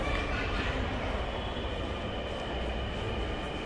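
Steady, loud rumble of a Dhaka Metro Rail train running at a station, a continuous roar with rail noise and no talking.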